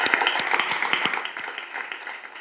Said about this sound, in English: a big applause for you for that expert moderation